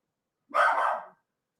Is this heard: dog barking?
yes